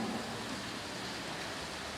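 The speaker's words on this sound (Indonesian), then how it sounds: "Hujan" Night rain falls outside a mosque during an Islamic study session. It makes a steady, soft, continuous hiss of rainfall with no distinct drops or voices, holding an even level throughout.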